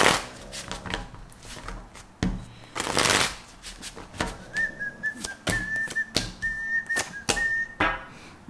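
Tarot cards shuffled by hand during a love reading, with repeated riffling and papery slaps in bursts, close and fairly loud, while a thin whistling tone comes and goes in the second half.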